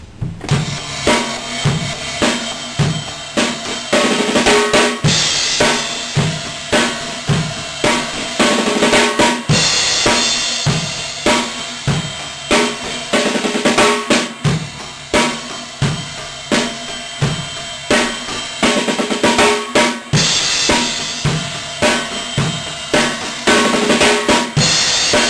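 Drum fill built on a double stroke roll accent rhythm, played continuously in a dense, driving pattern of loud, close hits with steady accented pulses and no voices.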